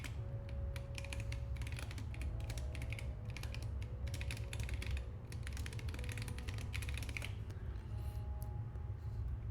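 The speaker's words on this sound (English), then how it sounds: "Really working on my typing speed here." Rapid bursts of keystrokes on a computer keyboard during programming work, clicking in quick irregular runs with brief pauses, close and fairly quiet over a low steady hum.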